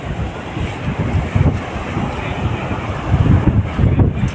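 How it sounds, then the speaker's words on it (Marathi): Steady broadband roar of ocean surf on Daman Beach, with swells of louder wash and wind buffeting the microphone throughout, no voices. "किती छान असं आहे लाटा कशा येत आहेत"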